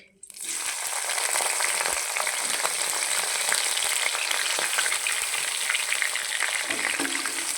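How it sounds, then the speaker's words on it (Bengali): Chopped onions hit hot oil seasoned with whole garam masala in a kadai and set off a loud, dense, continuous sizzle close up, with occasional stirring scrapes. "এবার এর মধ্যে আমি একটু করে পেঁয়াজ কুচিটা মিশিয়ে দিচ্ছি।"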